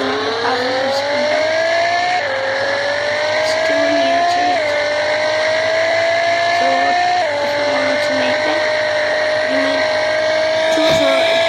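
In the Roblox game Vehicle Legends, a car engine drones steadily and loud, its pitch climbing through the gears with brief drops at each shift, a continuous synthetic rev under faint background noise.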